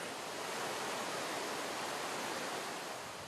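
Iguaçu Falls, a huge waterfall, roars as a dense, steady wash of broadband noise, loud and continuous with no voices.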